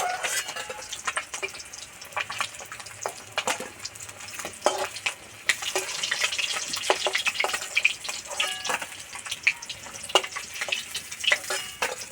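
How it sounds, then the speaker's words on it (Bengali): Rohu fish pieces sizzle and crackle in hot oil in a pan, a steady fry with frequent sharp pops and the scrape of turning the fish, close and clear. "মাছ ভাজা হয়ে গেছে তুলে নেবো"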